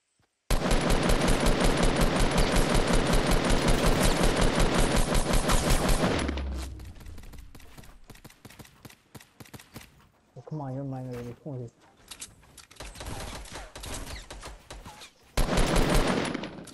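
Rapid automatic gunfire from a first-person shooter game: a dense, loud burst lasting about six seconds, then quieter scattered game noise with voices talking over it, and a second loud burst of fire returning at the end.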